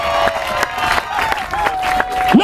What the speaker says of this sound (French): Est-ce que tu peux dire une acclamation pour le Seigneur?